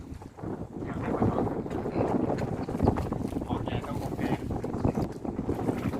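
Steady gusting wind buffets a floating fishing raft on a reservoir, a continuous broadband rush with rumbling microphone buffeting that stays loud throughout, with someone talking over it.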